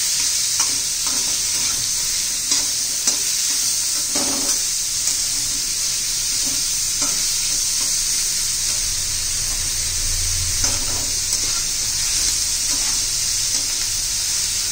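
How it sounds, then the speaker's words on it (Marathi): Chopped onion and bitter gourd sauté in a pan, a steady bright sizzle with soft scraping stirs of a spatula throughout, close up and with no talking. "आता कांदा सगळं चांगलं परतून घ्यायचंय आपल्याला।"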